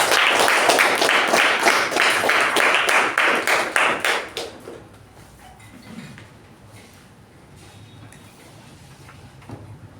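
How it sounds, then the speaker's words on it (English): A Toastmasters club meeting audience gives a brisk round of applause welcoming Toastmaster Shuba, steady for about four seconds before tapering off, followed by quiet room tone. "Please welcome Toastmaster Shuba with a big round of applause"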